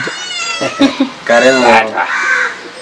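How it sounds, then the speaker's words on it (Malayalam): A cat meows a few times, drawn-out whiny cries up close, mixed with a person's voice calling nearby. "ഇവിടെ ഒരു പൂച്ചയുണ്ട് അതിനെ ഞാൻ വിളിക്കുന്നു"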